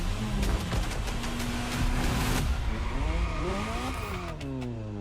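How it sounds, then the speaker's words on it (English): Ferrari engine in The Crew Motorfest racing game, loud and close, revving up through rising gear pulls with tire squeal and skidding, no voices. "It kind of just sounds like a car engine."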